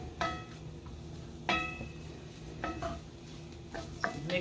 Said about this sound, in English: Mix this around really good.